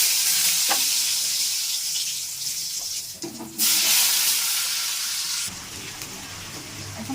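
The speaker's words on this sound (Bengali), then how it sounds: "এখন আমি পটলগুলো সুন্দরভাবে ভেজে নেব।" Halved pointed gourd (potol) rubbed with salt and turmeric fries in hot oil in a pan, giving a loud, continuous sizzle with brief surges and dips as the pieces shift, no talking.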